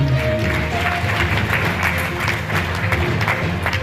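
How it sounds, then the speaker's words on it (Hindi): An audience at an all-India Hindi poetry gathering applauding, a sustained wash of many clapping hands with low crowd murmur and a faint hum running beneath, fairly loud and unbroken. "एक बार तालियां बजाइए सब"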